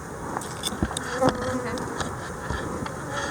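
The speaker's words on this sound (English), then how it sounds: "Bees are mad" A dense swarm of honeybees at a hive buzzes angrily and continuously, close and fairly loud, with sharp bursts as individual bees zip past.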